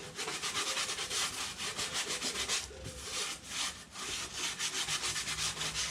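A boat's ribs and bulkheads being wiped down clean before fibreglass paste is applied, giving continuous close, loud rubbing strokes in a steady back-and-forth rhythm with short pauses, no voices.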